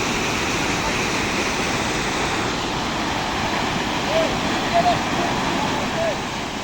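A mudflow torrent rushing through Naryn, a loud, unbroken roar of churning water close by, with faint voices now and then under the noise.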